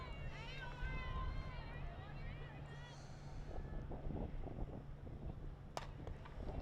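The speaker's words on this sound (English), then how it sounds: "Very windy and cold." Gusty, cold wind buffets the microphone with a low rumble at a girls' varsity softball game while a voice talks over it, and faint crowd sounds drift in from a distance.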